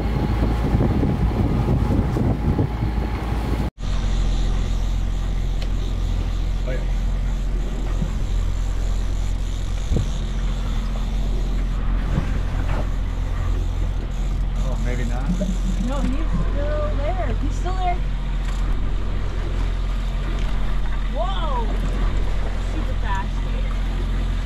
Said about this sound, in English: we've got the motor going, and we're making good progress